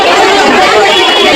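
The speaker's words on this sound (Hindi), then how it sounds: "तो देखिए सैकड़ों की भीड़ लग गई है।" Dense crowd of hundreds of people queuing outside a jeweller's shop, a loud, continuous chatter of many overlapping voices close by with no single voice standing out.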